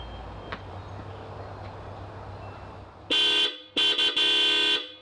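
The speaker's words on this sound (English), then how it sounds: "Now I'm going to give you a blast with all 4 hella horns." Four Hella horns on a 1989 Toyota 4Runner start after a stretch of quiet background rumble: one loud sustained blast, a brief gap, two quick toots, then another long, blaring blast. The horns sound close and alone, with no talking.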